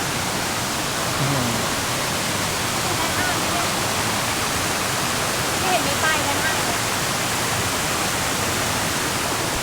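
Erawan waterfall in Kanchanaburi, Thailand, on the trail up to its seventh tier, gives a steady broadband rush of falling water that stays even and fairly loud throughout, with faint voices here and there.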